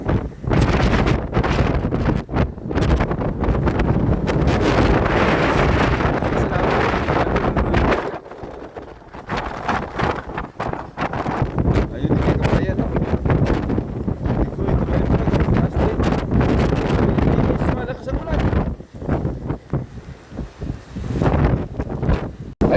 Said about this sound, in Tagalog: Napakalakas po ng alon at hangin.